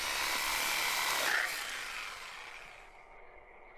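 A chainsaw cuts through something in the horror survival game Darkwood, giving a loud, steady buzzing whine that fades in the last second as the saw winds down.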